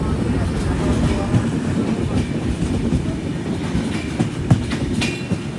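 Steady rumble and clatter of a moving Humsafar Express carriage riding the rails, heard from inside the coach, with a few sharp clicks and knocks over the continuous running noise; no one speaks.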